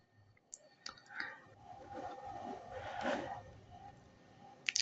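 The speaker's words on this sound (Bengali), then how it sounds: "এখানে আমি ক্লিক করব।" A few sharp computer mouse clicks while navigating the Bangladesh Railway e-ticketing website, scattered over a quiet room background with soft faint rustling between them.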